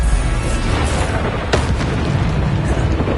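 The Bombarda spell goes off in the video game Hogwarts Legacy as a loud, rumbling, sustained blast with a sharper burst partway through, dense and close, with no voices.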